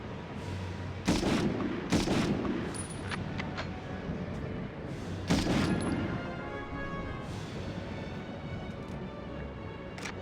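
Several sharp gunshot cracks in the video game Medal of Honor ring out at irregular intervals over a steady rumbling background, a few louder bursts standing out near the start and middle.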